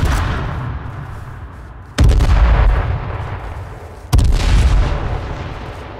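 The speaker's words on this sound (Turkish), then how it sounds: "Bomba attım oraya." Heavy explosions in the H1Z1 King of the Kill video game, two sharp loud blasts about two seconds apart, each followed by a long rumbling decay over a constant roar.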